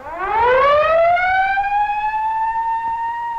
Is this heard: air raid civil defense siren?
yes